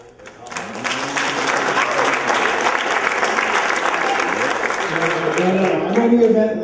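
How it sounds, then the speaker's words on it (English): Crowd at a town hall meeting breaks into applause that builds quickly and stays full and steady for several seconds, with some voices mixed in. "So I wanted to applaud the placement team."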